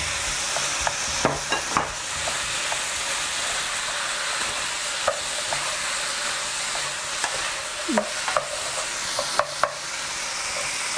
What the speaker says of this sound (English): Ten minutes later, start to fry. We put the onion